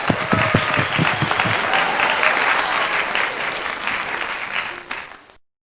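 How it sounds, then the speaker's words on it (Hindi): Congregation applause at an online Sunday worship service in a church, beginning with a few distinct claps and rising into a full, steady round of clapping that fades out after about five seconds. "तालियां।"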